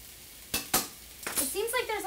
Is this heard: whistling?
no